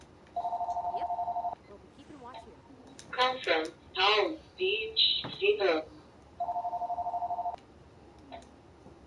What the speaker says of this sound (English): You hear my phone going off back to back